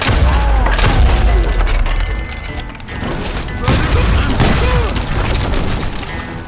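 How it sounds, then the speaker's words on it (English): Booming shotgun blasts and gunfire in the western shooter Call of Juarez Gunslinger, with mechanical reload clacks, loud and dense across the clip. "Never really used shotguns in this game before."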